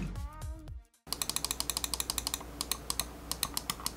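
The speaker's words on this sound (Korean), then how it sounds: "그러다보니 클릭 소음도 조금 있는 편이네요" A Titan GX Air wireless gaming mouse with Omron main switches gives rapid, crisp, fairly loud clicks in a steady stream. A tonal sound that fades out comes first, then a short silence before the clicking starts.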